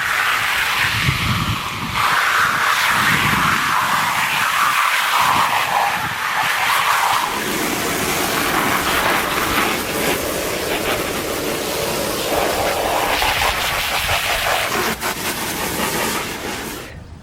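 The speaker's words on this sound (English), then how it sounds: "If I use a coarse brush like this, which I use to wash my car wheels, it takes off all the mud that's ground into this thing." Coarse car-wheel brush scrubbing a muddy outdoor RV carpet, with rinsing water, a loud continuous rough scraping and spraying hiss that runs throughout with some rhythmic strokes early on.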